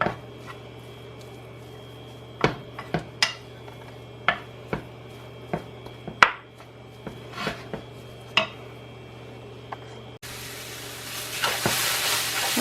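A spring onion cooking in a pan on a stovetop at medium heat, with a steady low hum, scattered close clinks and taps of a utensil against the pan, then a burst of soft sizzling near the end.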